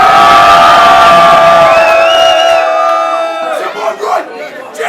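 Loud crowd at a rap battle main event cheering, whooping and shouting continuously, the roar thinning slightly toward the end as a few individual voices and calls stand out.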